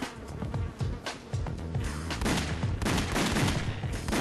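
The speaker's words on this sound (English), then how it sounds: "I was shooting that brain." Gunfire in the shooter game House of the Dead: Overkill comes as rapid, overlapping bursts of shots with rumbling impacts, fairly quiet overall and dense throughout.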